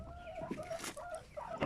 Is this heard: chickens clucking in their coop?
yes